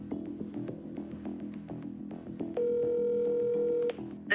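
A telephone call rings out before reaching voicemail: a steady electronic line tone holds for over a second, preceded by faint room noise and a quiet voice.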